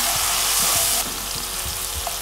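Shrimp pasta sauce with chopped tomatoes frying in a pan, a steady close hiss and sizzle with soft bubbling pops underneath, no voices.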